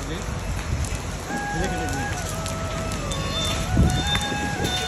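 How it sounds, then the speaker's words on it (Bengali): Hailstones fall from the sky during a hailstorm, pelting surfaces outside a house with a dense, continuous patter and hiss, while someone talks over the noise. "পড়তেছে শিলা বৃষ্টি। এই দেখেন মানে আকাশ থেকে বরফ পড়তেছে।"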